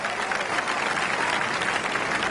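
Spectators at a golf tournament applaud a birdie putt with a steady, even burst of clapping from a modest crowd, heard alone.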